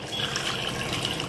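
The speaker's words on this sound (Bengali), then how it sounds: "নেড়ে জল দিয়ে দিচ্ছি," Water poured into a pan of chicken curry with roasted spice mix, a steady close splashing trickle running unbroken and alone for about a second.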